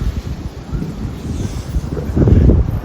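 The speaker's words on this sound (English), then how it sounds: "Man, it is kicking dust up, blowing leaves around everywhere." Strong wind buffeting the microphone in a continuous low roar, kicking up dust and blowing leaves, growing louder and gustier toward the end.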